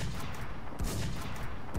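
Guns fire in the Minecraft BlockZ survival server in two sharp, punchy shots about a second apart over steady in-game background noise, with no talk.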